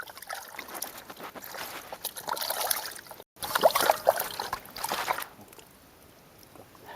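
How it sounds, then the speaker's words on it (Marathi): Raw chicken for tandoori being rinsed and swished by hand in a bowl of water, close splashing and trickling in uneven bursts with a brief gap, then fading to quiet near the end. "तर या पाण्यामध्ये आम्ही ते स्वच्छ असं धुवून घेणार आहोत"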